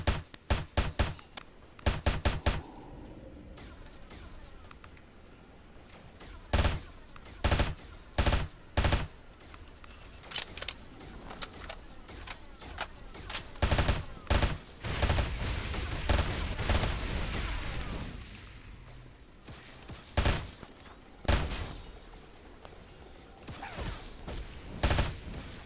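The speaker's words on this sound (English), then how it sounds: "Jeez, everyone's firing on me" Enemy gunfire in the Halo SPV3 mod, sharp loud shots and short rapid bursts arriving in irregular clusters with brief quiet gaps between volleys, plus a longer sustained stretch of heavy firing in the middle.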